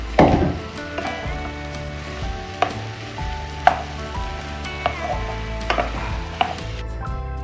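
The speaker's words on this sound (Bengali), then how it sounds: "এবার দেবো আলুগুলো আলুগুলো একটু কষিয়ে নিয়ে জল দেবো" Diced potatoes and minced meat sautéing in a pan, with a steady sizzle under repeated clacks and scrapes of a spatula stirring against the pan, close and alone without talk.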